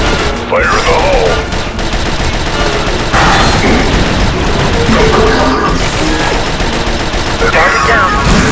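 Dense combat din from the shooter Star Wars: Republic Commando: sustained rapid gunfire with heavy booming blasts, loud and continuous, with scattered game voices underneath.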